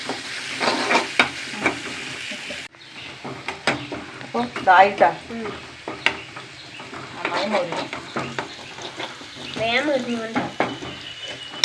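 Curry leaves crackling and frying in hot oil, a busy sizzle with sharp pops and spatters alongside stirring and pan clatter, while a voice talks over it.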